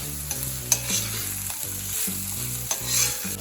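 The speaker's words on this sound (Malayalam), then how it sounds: "നമുക്ക് നല്ലോണം ആ പഞ്ചസാര ഒന്ന് മിക്സ് ചെയ്ത് കൊടുക്കണം" Salt and sugar being stirred into Kerala-style ginger curry (inji curry) for an Onam sadya in a pan: steady, rhythmic spoon scraping over a continuous close sizzle, with no voices.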